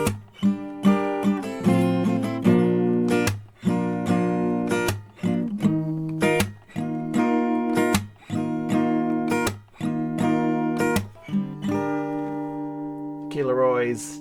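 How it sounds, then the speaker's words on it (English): Acoustic guitar strums a chord progression, rhythmic chord strokes ringing loud and close in steady repeated bars with a brief slide near the end. "one full chord progression around with strumming sounds like this"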